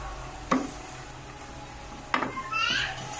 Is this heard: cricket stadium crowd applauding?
no